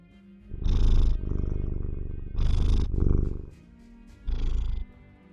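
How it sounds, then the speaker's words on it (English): An elderly 16-year-old cat purrs up close in three long rumbling bursts separated by short pauses, loud and steady, with no talk during the purring. "Proper purring. Proper purring away, aren't you?"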